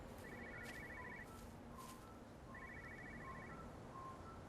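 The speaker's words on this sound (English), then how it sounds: "I hear a phone." Two bursts of a trilling phone ring inside a house in Everybody's Gone to the Rapture, fairly faint and distant over a steady ambient hiss, with a pause between them.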